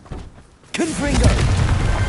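Confringo blasting spell in a Hogwarts video game: a sudden loud blast erupts after a quiet moment and rumbles on, with a voice calling out over it.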